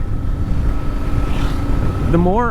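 Steady, loud rumble of a BMW R1100R motorcycle engine on the move, with wind buffeting the microphone and a rising rev swell near the end.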